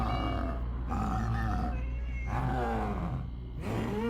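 A house cat meows repeatedly up close, a series of drawn-out, wavering calls, fairly quiet and steady, with no talking.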